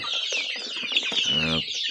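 A flock of young chickens about two and a half months old, including Adler and Australorp breeds, clucks and peeps continuously, close by and fairly loud, with a brief harsher squawk toward the end.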